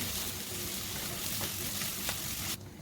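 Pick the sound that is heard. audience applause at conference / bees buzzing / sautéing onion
sautéing onion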